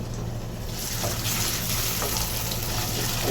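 Ginger garlic paste and cumin paste sizzling in hot oil for a Bengali pabda fish curry, a steady close-up frying hiss that swells slightly after the first second and holds with no talk.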